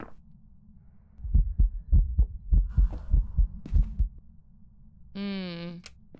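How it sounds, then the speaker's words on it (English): Deep, bass-heavy ghost heartbeat in a ghost-hunting video game, a series of about ten thudding beats in steady rhythm, followed by a short higher-pitched electronic tone. "I think the heartbeats weren't loud enough."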